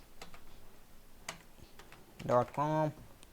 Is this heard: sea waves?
no